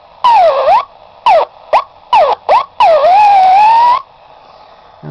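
Loud electronic wailing tones from a running SEC exciter high-voltage device rise and fall in quick bursts, then one long warbling sweep, close up with no talking.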